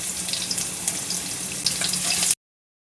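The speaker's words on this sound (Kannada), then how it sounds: "ಉದ್ದಿನಬೇಳೆ ಮತ್ತು ಕಡಲೆಬೇಳೆ ಎರಡೂ ಕೂಡ ಒಂದು ಸ್ವಲ್ಪ ಫ್ರೈ ಆಗಬೇಕು" Urad dal and chana dal frying in hot oil give a steady bright hiss and crackle, close and even, that stops abruptly after a couple of seconds.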